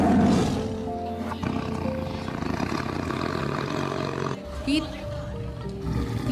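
An animated leopard gives loud, rough roars in a children's story, heard under a narrator and other voices talking throughout.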